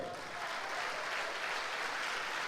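A church congregation at a pastors' gathering applauds steadily throughout, dense clapping at a consistent level with no voices breaking through.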